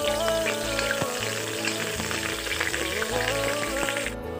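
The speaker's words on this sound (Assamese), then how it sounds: "এতিয়া দিম মই এটা ডাঙৰ সাইজৰ পিঁয়াজ কাটি লোৱা।" Chopped onion frying in hot oil in a kadai, a loud close crackling sizzle that holds steady throughout with a few light clinks.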